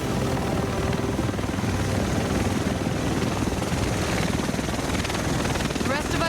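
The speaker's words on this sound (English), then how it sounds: "The rest of us should be in this chopper." Helicopter from the video game The Division thrums steadily throughout, a dense continuous rotor roar with game effects, while voices talk over it.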